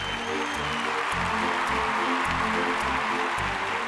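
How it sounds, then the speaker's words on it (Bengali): A studio audience at a Bengali singing reality show claps loudly and steadily, with continuous applause over rhythmic background music throughout. "আমি ওনাদের জন্য একটা জোরে হাততালি চেয়ে নেব।"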